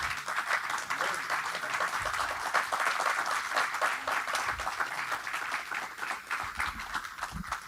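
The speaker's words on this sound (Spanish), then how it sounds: "démosle un fuerte aplauso al Señor" A church congregation applauds for the Lord during a Spanish-language evening service, steady dense clapping sustained for several seconds at moderate distance with no voices over it.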